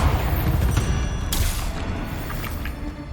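Confringo blasting spell in Hogwarts Legacy, fired during a spider fight, producing a sharp explosive burst over dense, rumbling combat noise, with fainter impacts trailing after.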